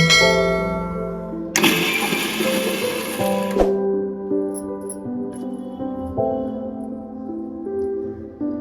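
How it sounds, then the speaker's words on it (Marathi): A mixer grinder coarsely grinds soaked chana and mung dal with a little water, green chillies and garlic: a loud, harsh two-second burst of whirring and rattling, followed by a fading motor whine. "थोडंसं पाणी टाकून ही डाळ जाडसर वाटून घ्यायची।"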